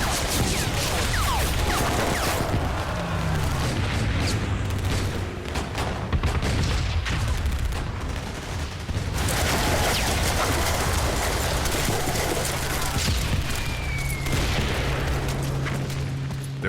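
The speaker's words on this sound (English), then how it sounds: "Rocket launchers, mortars, and 85 machine gun nests tear into the Americans." Dense D-Day beach battle effects fill the whole stretch with rockets, mortars and machine guns: a continuous loud roar of gunfire, booms and rumbling blasts, with a faint whistling streak partway through.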